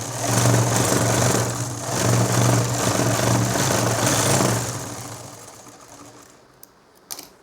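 A home sewing machine runs steadily, stitching a nightie, with a continuous motor hum that pauses briefly around two seconds and then fades out toward the end, followed by a few small clicks.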